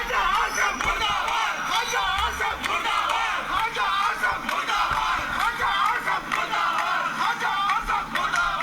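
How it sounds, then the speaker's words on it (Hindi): A dense, loud crowd in Sialkot chants political slogans against a candidate, 'murdabad' and 'chor chor', with many voices merging into a continuous roar that rises and falls in rhythmic waves throughout. "ये मुर्दाबाद और चोर चोर के नारे लग रहे हैं, ये सियालकोट में लग रहे हैं"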